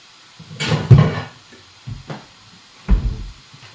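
A lid is set on a pot of steaming vegetables in a home kitchen, giving several close clattering knocks and rattles spread over a few seconds, with no talk.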